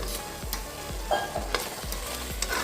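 Food fries in oil in a pan for tomato rice, a low sizzle running beneath repeated stirring scrapes and knocks of a spoon at a regular rhythm, fairly quiet and close.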